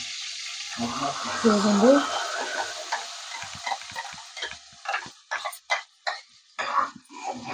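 Curry ingredients fry in oil in a pan for a home-cooked paneer masala, a quiet sizzle with scattered stirring taps and clicks, while a voice speaks briefly near the start.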